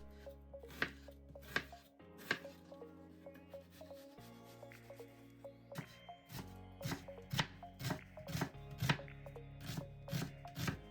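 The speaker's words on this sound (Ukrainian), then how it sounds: "Беремо одну цибулину і нарізаємо мілким кубиком." Repeated knife chops through an onion on a cutting board, dicing it finely, sharp rhythmic knocks in quick bursts, close and clear with no talking.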